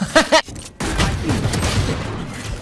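Gunfire in the game Valorant: a quick burst of sharp shots followed by a longer rumbling spray of fire, loud and close, with a voice briefly heard at the start.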